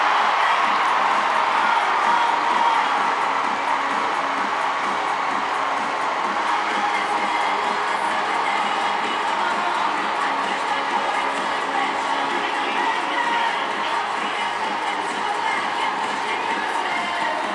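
A sellout arena crowd at a college gymnastics meet in Coleman Coliseum, Alabama against Auburn, roars in a dense, sustained wash of cheering that fills the whole stretch, with speech blended into the noise.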